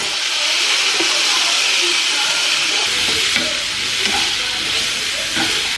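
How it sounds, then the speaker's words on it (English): Garlic hits a hot frying pan of nearly cooked asparagus, and a loud, steady sizzle and hiss runs throughout with small stirring clicks and scrapes. "I take a little bit of garlic, maybe that's not a little bit, toss it in there."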